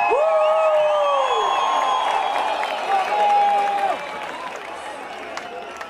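An audience at a New Year's Eve night performance cheers, whoops and applauds loudly and continuously, with shrill whistles and excited shouts rising over the crowd noise.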